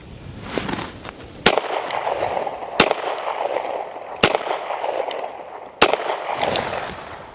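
Four sharp pistol shots from a Smith and Wesson M&P Shield Plus ring out about 1.5 seconds apart, each a loud, close crack over a steady background hiss.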